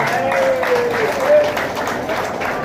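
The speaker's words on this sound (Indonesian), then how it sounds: "Tepuk tangannya dong." Clapping from an audience at a sales training seminar, a steady round of applause with a voice speaking over it.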